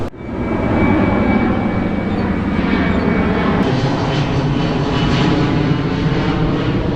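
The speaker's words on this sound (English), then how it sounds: "There's an airplane flying over because the airport's actually located very close to here." An airplane flies low overhead near an airport, a loud, steady roar of engines that fills the whole stretch without fading.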